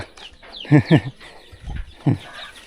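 Chickens clucking in a rural village near the Vietnam border, a few short bursts of clucking close by around a kitchen hut, with quieter rustling and background sounds between.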